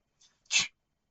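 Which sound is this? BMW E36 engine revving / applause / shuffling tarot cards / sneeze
sneeze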